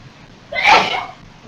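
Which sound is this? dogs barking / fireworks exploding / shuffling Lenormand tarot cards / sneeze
sneeze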